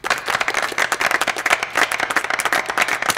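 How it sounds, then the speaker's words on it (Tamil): An audience claps together in a sustained, uneven burst of hand claps, fairly close and dense, with no talking over it. "எல்லோரும் கைத்தட்டுங்கப்பா"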